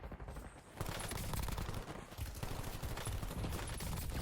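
Rapid automatic submachine gun fire in Call of Duty: Warzone, dense sustained bursts of loud gunshots with brief pauses, firing close and steady throughout.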